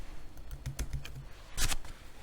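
Fingers tap a computer keyboard in a string of light, quick clicks, with a denser cluster of keystrokes near the end, close and fairly quiet.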